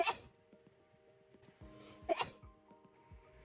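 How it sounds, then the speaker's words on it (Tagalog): A person with allergies and an itchy nose and throat sneezes repeatedly, with a sharp burst at the start and another loud one in the middle, plus small sniffs and breaths in between, close and otherwise quiet. "Bahing ng bahing."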